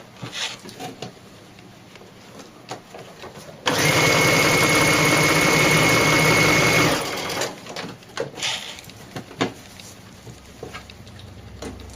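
Sewing machine runs in one steady, loud burst of about three seconds, stitching straight across elastic on a doll dress, with quieter handling sounds before and after.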